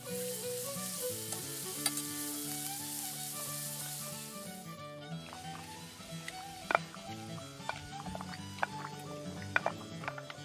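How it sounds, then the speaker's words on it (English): Hash patties of salt pork with allspice frying in a pan over an 18th-century-style hearth, a steady close sizzle running throughout with occasional sharp pops and crackles toward the end. "I'm gonna form this up into patties and fry it in our frying pan."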